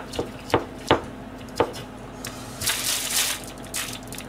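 Knife chopping food on a cutting board while preparing pork-and-cabbage gyoza filling, a few loud separate chops followed by a denser stretch of crunching cuts, close and clear with no talk.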